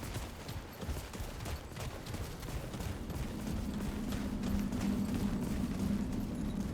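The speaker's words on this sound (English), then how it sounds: "The gunfire's a little louder than me" Continuous gunfire in the video game Remnant 2, dense rapid shots under a steady low rumble, loud and sustained throughout.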